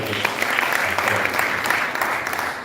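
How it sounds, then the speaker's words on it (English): An audience applauds a panelist at a Nigeria Startup Act event marking 20 years of Shell LiveWIRE, steady crowd clapping throughout with a voice audible underneath. "Ladies and gentlemen, let us applaud him."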